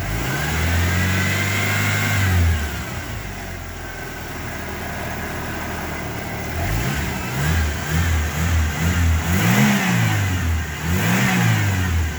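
A 1993 Ford Ranger pickup with dual exhaust, cold and just worked on, revving hard at close range; the engine roars up and settles twice, then sweeps through a series of quick rising and falling revs, loud and steady with no talking.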